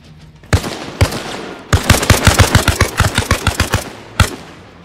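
An AK rifle in Arma Reforger fires close and loud, first two single shots, then a rapid burst of about a dozen cracks, then one last shot, with no talk.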